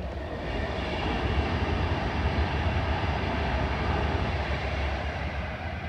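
Class 390 Pendolino train 390-045 pulls away from Watford Junction toward London Euston, producing a steady, loud rumbling roar of engine and wheel noise that holds evenly throughout.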